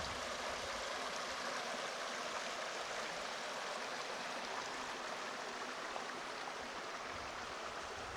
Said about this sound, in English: This is Cabin Creek, also flowing nicely.